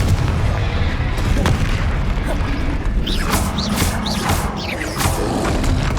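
Confringo blasting spells fire in Hogwarts Legacy on PC, producing a loud, dense wash of booming blasts and rumble with quick whooshing streaks layered over continuous game noise.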